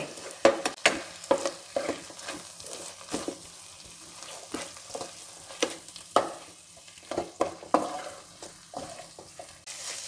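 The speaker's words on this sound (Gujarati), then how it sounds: "બધું બરાબર મિક્સ કરી લેવાનું છે." Vegetable rice is mixed with garlic chutney, lemon juice and sugar in a pan. A spoon scrapes and stirs in irregular clattering strokes over a faint sizzle, close and fairly loud. No one speaks.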